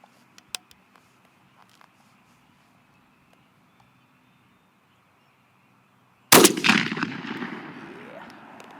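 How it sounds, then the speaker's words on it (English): A single shotgun blast firing a TSS Apex Ninja load at a target 25 yards away, loud and sharp after several seconds of quiet outdoor ambience, followed by a long rolling echo that slowly fades. "So this is a TSS Apex Ninja load, 25 yards. We're gonna shoot it now."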